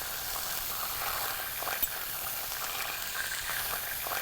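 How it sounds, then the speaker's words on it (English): Pancetta sizzles steadily in a warm pan, a constant close hiss with a faint crackle, no voices. "Pancetta goes also into a warm pan."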